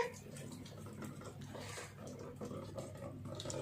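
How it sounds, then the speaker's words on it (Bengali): Water runs steadily for a few seconds with a soft, continuous splashing hiss, fairly quiet and unbroken, with no clear voices over it. "জল পড়ছে"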